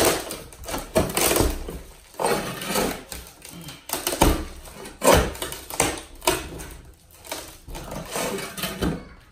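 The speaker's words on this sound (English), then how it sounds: "On to ripping up the plywood." Plywood floor boards being pried and ripped up during a home renovation, a run of loud, irregular cracks, creaks and scraping tears close by, arriving in repeated bursts with brief pauses between.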